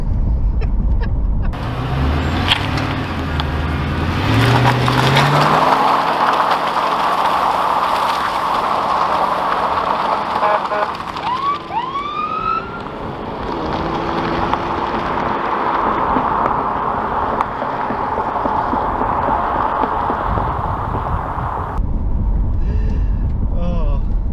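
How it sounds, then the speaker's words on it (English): A Ford Crown Victoria V8 police car does a burnout, a loud, sustained engine roar with tyre noise droning for about twenty seconds, with rising and falling squeal-like tones partway through, then cutting off near the end. "burnout in a police car."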